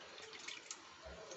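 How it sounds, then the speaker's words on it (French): Tap water runs steadily as a blender is rinsed under the faucet in a home kitchen, a soft continuous splashing rush with a brief low gurgle near the end. "Attends, je vais rincer un peu le mixeur."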